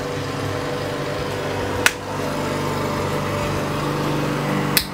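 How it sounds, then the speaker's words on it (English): Lawn mower running outdoors, a steady, moderately loud mechanical engine drone that holds throughout with a couple of sharp brief clicks, and no talk. "Really, you're gonna mow your lawn right now?"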